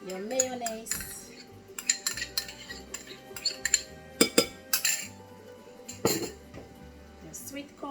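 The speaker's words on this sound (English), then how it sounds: "Just mix everything together." Utensils clink and scrape against a bowl while potato salad with mayonnaise, milk and sweet corn is stirred together, steady close mixing with sharp metallic knocks over a faint background hum.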